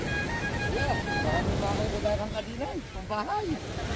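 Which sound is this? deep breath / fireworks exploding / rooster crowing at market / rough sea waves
rough sea waves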